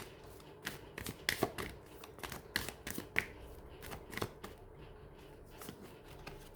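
Tarot cards are shuffled by hand in a quiet room, a string of quick papery riffles and soft taps in irregular bursts, close and fairly faint, with no talking.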